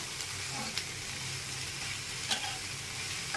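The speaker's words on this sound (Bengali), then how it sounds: "শাকটা ভাজা ভাজা হয়ে গেছে, এখন নামিয়ে পাটা" Malabar spinach greens sizzle and fry steadily in a pan with occasional stirring scrapes, a continuous close crackle without speech.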